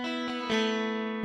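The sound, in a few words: bright, jangly clean DI single-coil guitar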